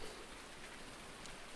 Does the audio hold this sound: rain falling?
yes